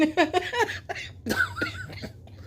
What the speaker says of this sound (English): I hope you ain't coughing.